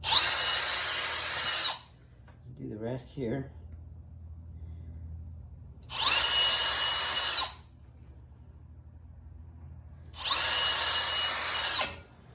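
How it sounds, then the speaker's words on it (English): A cordless drill bores through a rub rail hole on a Honda Aquatrax in three loud, close bursts of high whine, each one to two seconds long, separated by quiet pauses with a short spoken remark in one gap. "I'm just going to drill right through that."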